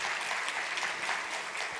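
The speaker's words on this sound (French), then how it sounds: "Très bien dit, applaudissez." A short burst of audience applause at a CEO panel discussion, dense, even clapping from a seated crowd, close and steady without talk.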